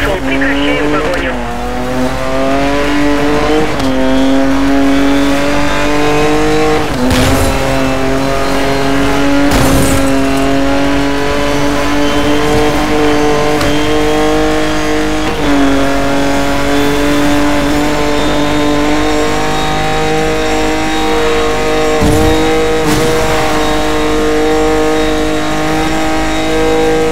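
Steady, loud car engine at full speed, held near 280 km/h during a police chase in the video game Need for Speed Most Wanted 2012, with a sustained high drone, a few brief gear-change dips and occasional crash-like hits.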